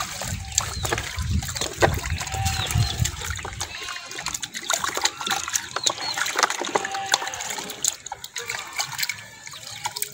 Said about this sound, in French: je vais laver ça proprement avec de l'eau